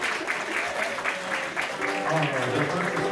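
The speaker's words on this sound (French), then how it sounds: "On l'applaudit pour être sûr qu'il s'en vient." Studio audience at a French-language news show applauding a guest's arrival, a steady patter of clapping running beneath continuous talk from people on stage.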